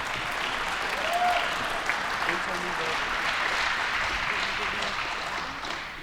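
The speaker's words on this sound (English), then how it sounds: "Let's give both these young ladies a big round of applause." A home crowd at a youth female recurve archery final applauds two young archers, a steady, even round of clapping that lasts throughout and eases slightly at the end, with some talking beneath it.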